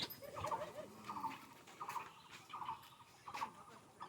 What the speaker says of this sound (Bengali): এই চীনা মুরগি।